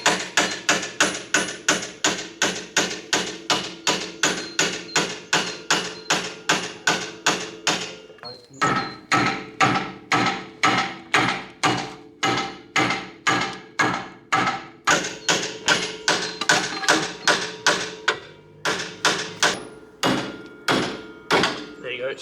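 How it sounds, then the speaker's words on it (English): Club hammer repeatedly strikes a part of a broken BMW V8 suspension: a long run of loud, evenly spaced metallic blows, roughly two per second, with a brief pause partway through and voices in the background. "Have you got an adult club hammer"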